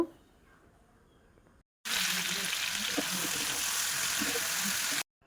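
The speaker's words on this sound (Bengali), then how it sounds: "মাংসটা ভালো করে কষিয়ে নেব" Chicken pieces being fried and stirred in a pan, a loud, dense sizzle that starts abruptly after a quiet moment, holds steady for about three seconds with soft stirring knocks, then cuts off suddenly.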